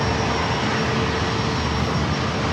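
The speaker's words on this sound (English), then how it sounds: "All right, we got that ATR 42 up next." An ATR 42 turboprop airliner at San Diego airport drones steadily with a broad, loud roar that holds constant and unbroken, heard alone with no voices.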